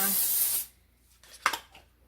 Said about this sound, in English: I like to spray my pizza pan.